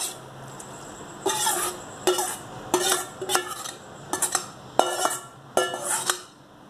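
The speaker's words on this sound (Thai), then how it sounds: "เสร็จแล้วเขาก็คนให้เข้ากันเจ้า" A spoon stirring chili paste into small round eggplants in a pot or bowl, with a regular series of clinking scrapes about once every second, close and clear with no talking.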